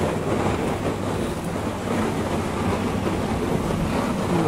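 A Miele G230 dishwasher on its first run fills with water, a steady, continuous broadband rushing that stays even throughout with no voices.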